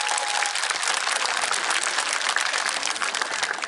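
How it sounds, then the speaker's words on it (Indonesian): A church congregation in Ajibata applauds the teachers: dense, steady clapping from many hands fills the space, loud and continuous throughout with no pause. "Tepuk tangan untuk bapak ibu gurunya ya."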